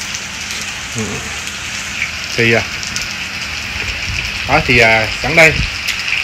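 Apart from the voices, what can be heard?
rain and wind storm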